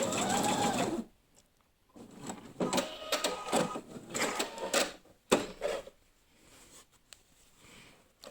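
A sewing machine stitches fabric in rapid bursts, starting with a backstitch and then sewing a straight seam 1 cm from the edge, close and clear with short pauses between runs.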